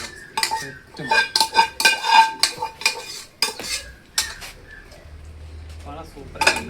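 Spoon scraping and clinking against a pan as beef liver in thick gravy is stirred, a run of close, rhythmic metallic scrapes and knocks that thin out into a softer low simmer.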